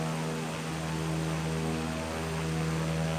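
Propeller drone of an Embraer EMB-314 Super Tucano light attack aircraft in flight in the X-Plane simulator, a steady, continuous engine hum with strong tonal harmonics, loud and unchanging throughout with no voices.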